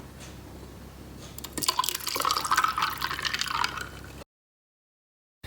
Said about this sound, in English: Now you can pour half a cup of your fresh brewed coffee.